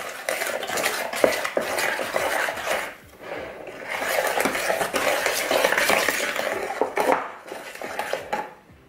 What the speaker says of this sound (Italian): Andiamo a mescoliamo.